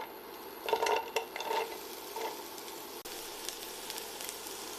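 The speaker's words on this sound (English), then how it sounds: "First, saute the onions until they've softened." Onions sautéing in a pan for lentil dahl, giving a faint, steady sizzle with a few brief stirring scrapes near the start before settling into a quiet hiss.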